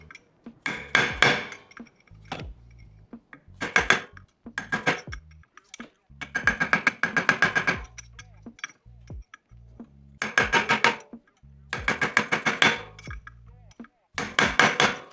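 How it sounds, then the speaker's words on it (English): A punch struck with a rubber mallet flattens the lock washer tabs on a Honda CR125R motorcycle clutch, giving close, sharp metallic taps and clinks in quick clustered bursts separated by short pauses, with no talking. "you're gonna take a punch and you're gonna ping these back flat, the lock washer tabs"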